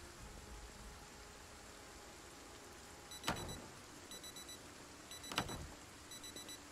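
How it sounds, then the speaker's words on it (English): Alarm clock in Project Zomboid during a tropical storm, faint repeated electronic beeping bursts over steady rain noise, with two swelling whooshes. "Let's turn the alarm off."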